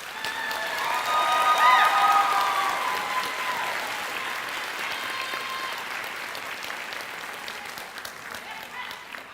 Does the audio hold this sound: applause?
yes